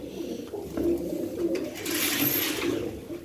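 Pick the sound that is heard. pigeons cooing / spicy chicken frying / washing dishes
pigeons cooing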